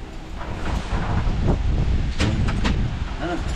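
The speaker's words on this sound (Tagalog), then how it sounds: "Mahangin po." Wind gusts buffet the microphone outdoors with a dense, rough rumble that swells and holds, broken by a few sharp knocks and brief voices near the end.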